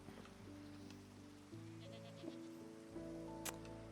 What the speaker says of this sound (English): That's another goat.